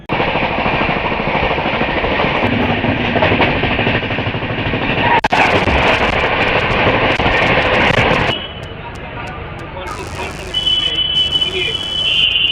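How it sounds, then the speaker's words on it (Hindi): A Humsafar Express passenger train departs Gorakhpur Junction, heard from inside the coach as a loud, steady rumble and clatter of wheels. The noise drops away near the end, and a voice speaks over it. "भाई 10 मिनट की देरी से अब हमारा डिपार्चर हो चुका है गोरखपुर जंक्शन से।"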